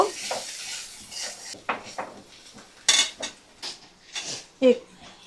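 Ginger-garlic paste and cumin paste being stirred in a pan for chicken chotpota, with repeated scraping and clinking of a utensil against the pan in an irregular rhythm, close and moderately loud, a faint sizzle underneath.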